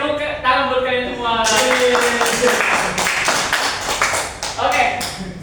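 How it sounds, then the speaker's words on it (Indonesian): Students in a classroom clap hands in a burst of loud, fairly quick claps, following a short stretch of voice with a sung or chanted tone near the start. "Oke, tepuk tangan buat kalian semua."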